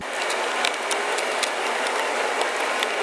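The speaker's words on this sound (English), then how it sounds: "We're going to use our T20, and we're going to remove these two bolts" A ratchet with a T20 bit backs out bolts inside a Porsche 911 997.2 interior, a close, steady rasp of ratchet clicks in quick succession with faint broadband noise behind.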